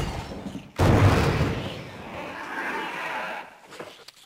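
An acid round fired at a hunter in Resident Evil REmake lands as one loud, sudden blast, trailed by a decaying rumble and a softer low tail.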